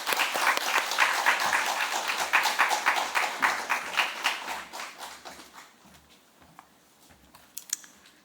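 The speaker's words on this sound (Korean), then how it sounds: "박수로 환영하도록 하겠습니다" A church congregation at a Friday evening worship service applauds to welcome a speaker, with dense clapping for about five seconds that thins to scattered claps, then a quieter room with a few soft knocks.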